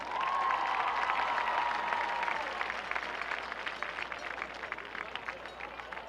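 Crowd in the stands at a high school football game applauds and cheers for the cheer team seniors, a steady spread of clapping that swells at first and then slowly thins out.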